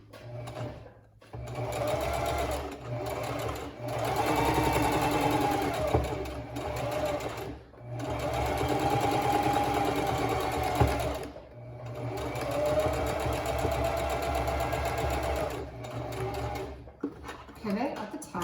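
A sewing machine edge stitches around the perimeter of a plush tummy piece, running in steady whirring bursts with short pauses between, close up, with a voice talking during parts of it.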